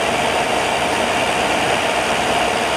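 A steady, dense aircraft engine drone from the Microsoft Flight Simulator 2020 game, loud and unbroken with no variation across the short stretch.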